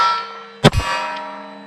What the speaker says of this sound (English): Let's try the MGM gong here.